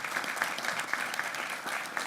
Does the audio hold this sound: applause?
yes